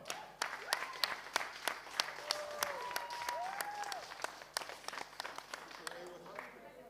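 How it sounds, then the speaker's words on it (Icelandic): Audience applause at an Icelandic national powerlifting championship for a winning lifter, steady clapping from a crowd with sharp individual claps standing out, mixed with cheering voices and an announcer speaking over it. "Gefðu gott klapp."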